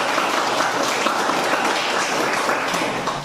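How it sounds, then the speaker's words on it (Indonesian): A class applauds after a floor-gymnastics lesson, a dense, steady burst of many hands clapping at once that holds evenly and fades slightly at the end. "Tepuk tangan untuk kelas."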